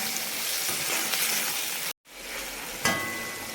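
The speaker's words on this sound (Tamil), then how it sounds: "வெங்காயம் தக்காளி நல்லா வதங்கிடுச்சு மாமா" Loud, continuous sizzling of onions and tomatoes sautéing in a hot pan, with a momentary cut in the sound partway through and a faint clink.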